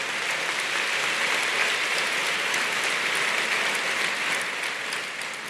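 Sustained applause from an audience for faculty at an engineering graduation ceremony, a thick, even wash of many hands clapping at once that fades slightly toward the end.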